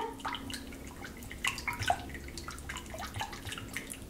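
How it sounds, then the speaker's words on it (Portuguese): Yeast being stirred into warm water for a soft eggless homemade bread dough, heard as faint, irregular liquid clinks and small splashes close by, with no talking. "Agora vou mexer aqui esse fermento"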